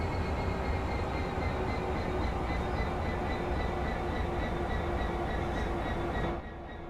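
A Class 66 diesel locomotive in a train simulator game rolls slowly toward a wagon to couple, a steady rumble with a faint tonal hum that holds evenly, then drops away sharply near the end.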